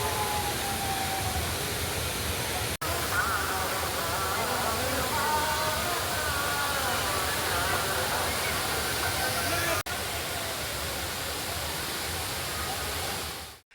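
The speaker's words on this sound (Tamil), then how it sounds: "அருவியில் இதமாக கொட்டும் நீரில் சுற்றுலா பயணிகள் குளித்து மகிழ்ந்தனர்" Thirparappu Falls pours down steadily where tourists bathe, a loud, unbroken roar of falling water that fills the whole scene from start to finish.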